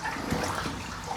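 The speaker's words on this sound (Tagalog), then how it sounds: "ang lakas pa rin ng bukal ng tubig" Water from a spring flows and trickles inside an old church tunnel, a soft, continuous splashing wash heard close by at low volume, with no voices.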